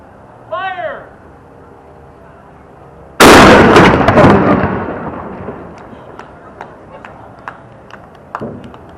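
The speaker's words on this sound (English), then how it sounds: "Cod's gun reported one last time for this total solar eclipse. The reverberation was amazing." A single deck gun on the WWII submarine Cod fires once with a sudden loud blast, then booms and rolls away in a long echoing tail; a brief voice sounds shortly before the shot.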